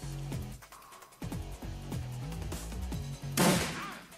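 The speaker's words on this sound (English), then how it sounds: "That shotgun's pretty meaty" A loud, meaty shotgun blast in Shadowrun Returns lands late as one sharp burst, with a steady game music bed playing under it.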